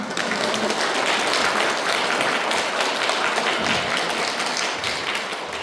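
A crowd applauding, dense and sustained clapping at full volume from start to finish, easing slightly near the end.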